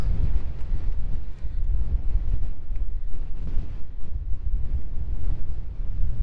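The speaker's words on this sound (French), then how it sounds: "Beaucoup de vent." Strong wind buffets the microphone in a continuous loud roar with gusty surges at about 2,640 metres on a mountain trail, no voices present.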